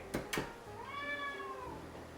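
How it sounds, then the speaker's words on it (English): A cat gives two short sharp sounds, then a single clear, drawn-out meow up close in a quiet room. "the culprit for being the most annoying cat is right here"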